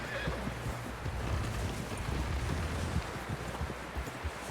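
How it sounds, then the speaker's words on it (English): A horse whinnies in the video game Red Dead Redemption 2, amid a busy background of hoof clops and low rumbling, moderately loud and close. "Someone help John down off this horse"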